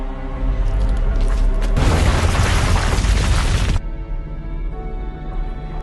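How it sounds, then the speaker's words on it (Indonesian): Cannon fire at a coastal fort during a wartime naval battle: one heavy, roaring blast of about two seconds bursts out of a loud, continuous rumbling background, with no speech. "Lalu 2 tembakan kembali dilepaskan hingga membuat Kolonel Eriksen tersungkur."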